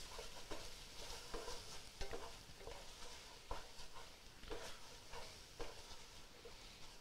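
A utensil scrapes the bottom of a hot pan while French onion soup is deglazed with wine, steady sizzling under repeated short scraping strokes, close and moderately loud, no talking.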